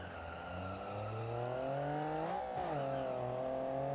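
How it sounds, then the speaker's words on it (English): A modern Group B style rally car, a Porsche, spinning its wheels on a low-grip surface in the BeamNG driving game, the engine droning and rising in pitch with a brief dip as it revs continuously and loudly. "There's a lot of wheel spin there, a scary amount of wheel spin."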